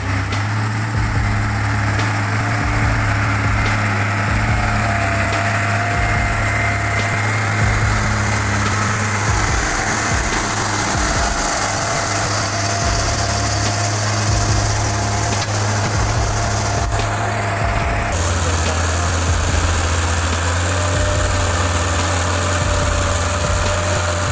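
A logging tractor engine drones continuously throughout, loud and close, with a constant low hum and slight shifts in pitch.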